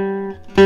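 A short plucked gypsy jazz guitar enclosure lick: a sustained note, a few quick notes circling around, then a bright strummed landing note, played alone.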